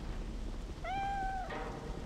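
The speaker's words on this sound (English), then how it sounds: "And the cat. Yeah, didn't forget you, cat." A cat in Divinity: Original Sin 2 lets out a single drawn-out meow over a steady low game ambience of rain and rumble.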